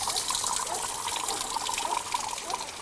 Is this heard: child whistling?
no